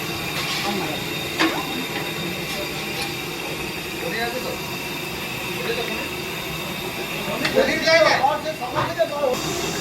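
Water goes into a hot pan of spices heavy with Kashmiri chilli powder for chana masala, raising a steady close hiss of sizzling that runs throughout, with a voice speaking over it.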